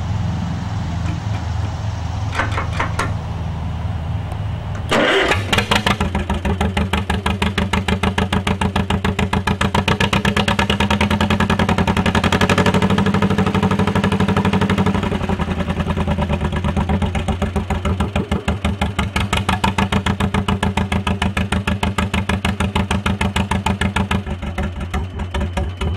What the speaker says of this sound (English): We think they're skipping, they're really running well, but they have a popping sound.